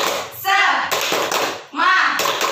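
Children in a primary school classroom perform a rhythmic clapping chant, bursts of group voices alternating with sharp claps, close and lively.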